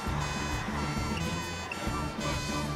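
A cartoon fire engine's alarm siren blares loudly and continuously, a steady pulsing electronic tone that briefly dips twice before resuming.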